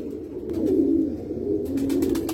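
Pigeons coo in low, rounded, repeated calls close by, two drawn-out phrases with light rustling and fluttering in between.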